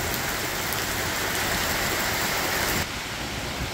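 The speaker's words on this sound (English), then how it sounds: "lots of rain" Heavy rain pours down during a three-inch downpour, a dense, steady, loud hiss of drops on surfaces with no voices.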